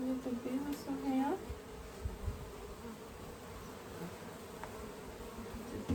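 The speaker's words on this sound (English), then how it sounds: "Here, a lot of little bees also here." Honeybees buzz steadily around an open beehive, a dense, close swarm drone running throughout, with a person speaking briefly over it at the start.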